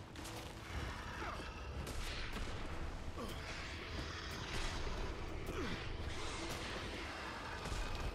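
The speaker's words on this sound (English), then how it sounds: "It's interesting seeing the grenades do that though." Grenade blasts going off during a Guild Wars 2 guild mission, a dense run of overlapping bursts and bangs that keeps up steadily with game effects over the top.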